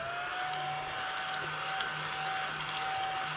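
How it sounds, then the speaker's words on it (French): A small handheld vacuum cleaner picks up sawdust from an old wooden cutting board, a steady whining motor drone holding one pitch, close and continuous. "On va ramasser avec le petit aspirateur"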